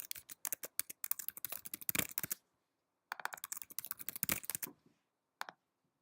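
Fingers type a login username and password on a computer keyboard, producing quick, close key clicks. They come in two dense runs of tapping separated by a short pause, then a final lone keystroke after a brief silence.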